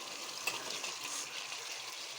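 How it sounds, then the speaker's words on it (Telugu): Eggs being stirred into a simmering gravy in a pan, a steady soft sizzle and bubbling hiss throughout with one faint clink near the start. "మనం కలిపిస్తున్నాం ఎగ్స్."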